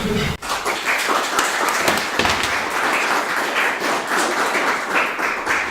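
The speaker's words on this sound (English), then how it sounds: "with a big round of applause, let's welcome Ellie Cachette" A tech event audience breaks into applause to welcome a speaker, a sudden onset of dense clapping that holds steady and fairly loud for several seconds.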